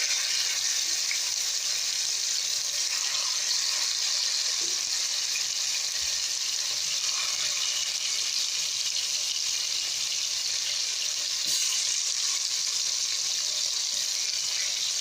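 Chicken pieces fry slowly in oil over low heat, giving a steady, even sizzle and crackle that holds for the whole stretch with faint occasional clicks and no talking.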